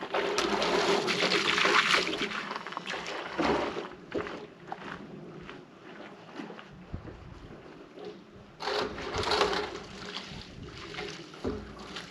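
Water splashing and gushing while a mucky shower rainwater collector is rinsed out at an Arizona RV homestead, a steady close wash with louder bursts near the start and end.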